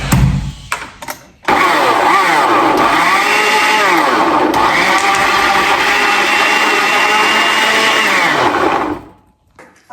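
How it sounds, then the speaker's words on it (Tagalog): A blender purees apple, white onion, garlic and a little water into a sauce for Korean barbecue, running loud and steady for about seven seconds after a few brief knocks, its motor pitch wavering as the contents churn, then stopping. "Tapos i-blend."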